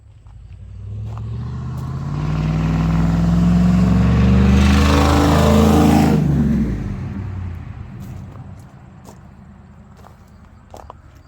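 A 1979 Pontiac Trans Am with a 400 engine runs loud and close, its rumble rising into a strong rev through the middle and then settling back to a steady idle.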